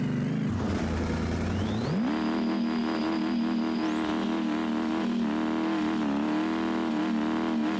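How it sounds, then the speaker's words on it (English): A red D-Series truck does a burnout in the BeamNG driving game, its engine revving hard and climbing in stepped surges to a loud, sustained high whine, close and steady with no talk. "let's go ahead and give it a little quick burnout here"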